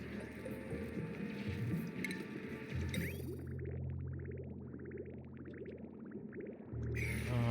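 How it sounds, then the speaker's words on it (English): In the video game Oxygen Not Included, water flows into a pipe with soft squishy, dripping, gurgling liquid sounds, faint and low, repeating over a quiet ambient game background. "Now we got water coming into here."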